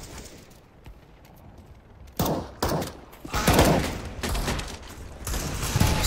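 Video game gunfire rattles in dense overlapping bursts, starting quiet then erupting loud and close for several seconds of near-continuous automatic shots.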